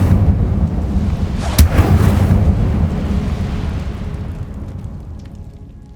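The Incendio fire spell cast in Hogwarts Legacy, a loud booming burst of flame that swells then rumbles and fades slowly over several seconds.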